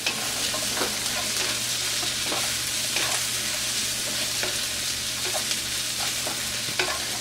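Onions frying in oil with a few curry leaves for a Kerala-style chicken roast, a steady close sizzle with periodic stirring scrapes throughout, no voices.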